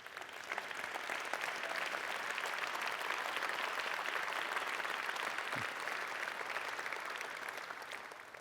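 An audience at a manufacturing industry address breaks into sustained, even applause, a broad steady roar of many hands clapping with no voices standing out.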